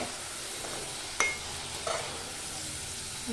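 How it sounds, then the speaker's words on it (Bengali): Continuous hiss of potatoes frying in hot oil for French fries, with a couple of brief clicks from a utensil. "উল্টে পাল্টে আমি এগুলোকে ভেজে নেব ভালো করে, একটু লাল লাল করে ভাজবো"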